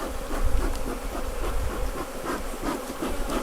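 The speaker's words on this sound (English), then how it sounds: "Not happy bees." Agitated Italian honey bees swarm around a nuc, a dense, steady buzzing drone close by, with individual bees whining past on top of the continuous hum.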